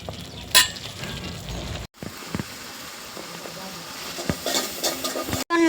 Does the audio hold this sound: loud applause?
no